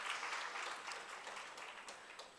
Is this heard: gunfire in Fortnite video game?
no